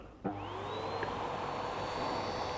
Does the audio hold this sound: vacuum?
yes